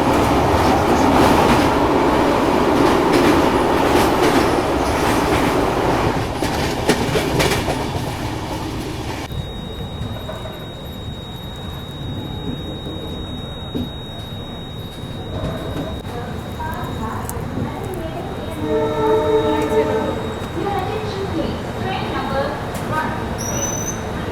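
A Pune–Kanyakumari Express rolls over the Kaveri river bridge, a loud continuous rumble of wheels and carriages that drops to a lighter rattling clatter partway through, with faint voices in the coach.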